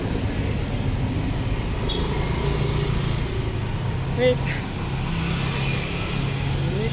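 Steady road traffic on a busy street being crossed on foot: a continuous low rumble of passing vehicles, with a brief spoken word partway through.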